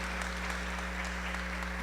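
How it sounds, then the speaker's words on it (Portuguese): An audience at a public debate applauds in a steady, dense wash of clapping, fairly soft and continuous throughout, with no talking on top. "então já mais uma salva de palmas para ela"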